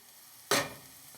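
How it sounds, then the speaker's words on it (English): Chopped garlic and bacon hit hot oil in a pan, giving one sudden, close burst of sizzling that fades quickly into a soft hiss. "we're gonna get it moving into the oil until it starts to sizzle a little bit."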